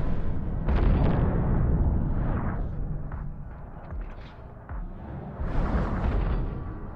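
Missiles launch and blow up in the video game Overload, making loud, rumbling blasts and whooshes that swell and fade in waves, with a sharper burst of explosions near the end and no voices.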